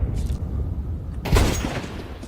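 A scout sniper rifle fires during a Counter-Strike 2 match at IEM Cologne, one sharp, punchy crack with a short tail. Softer game noises come before and after it.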